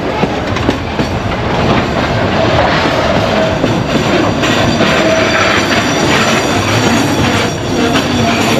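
A freight train rolling past while braking hard on a downhill run, with loud, close, continuous rumbling, clattering wheels and metallic squealing of brakes and wheels throughout.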